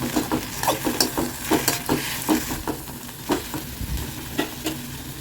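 Vallarai greens and grated coconut sautéed in a pan for a thuvaiyal, stirred with a spatula in repeated scraping strokes over a soft, steady sizzle.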